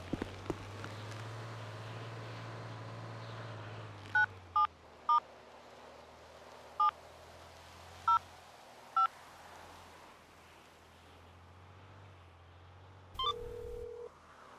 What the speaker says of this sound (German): ich rufe gerade von der Telefonzelle an